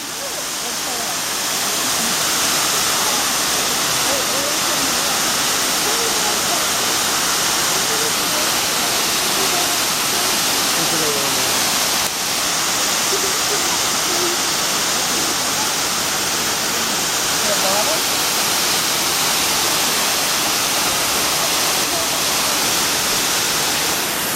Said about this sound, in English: right here is the Brandywine Falls in all its glory